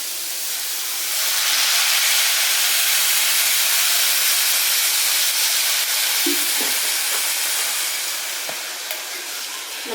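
Water poured into a hot stone pot of beetroot pachadi bursts into a loud, broad steaming hiss and sizzle that swells, holds steady, then eases with a few crackles near the end.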